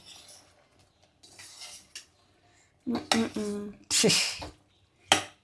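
A spoon stirs sweet koottukari curry in a pot, giving a few separate bursts of scraping and clinking against the metal, close and fairly loud, with quieter gaps between them.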